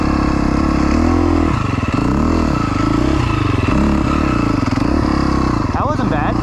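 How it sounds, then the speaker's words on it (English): A 4-stroke trials motorcycle held in a wheelie, its engine loud and close with rising and falling revs as the throttle is worked, with a voice talking over it. "Do a little trials wheelie up this."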